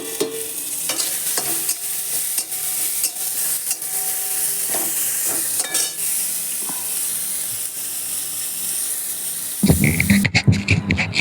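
Bitter gourd slices frying in oil in a pan, a steady sizzle with intermittent stirring scrapes, close and continuous, ending with a louder burst of clatter and hiss.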